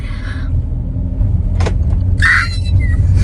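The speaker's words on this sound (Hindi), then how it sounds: "और हम गाड़ी चला रहे हैं।" A car driven on a potholed road at around 4 AM, steady close engine rumble and road noise with a brief squeal and a few sharp rattles, no talking.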